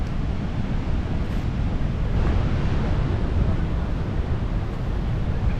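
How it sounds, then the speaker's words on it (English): The Niagara River rushing near the Maid of the Mist tour, a steady, dense roar of flowing water mixed with wind buffeting the microphone, constant and loud throughout without a break. "Right there the river is flowing in full glory"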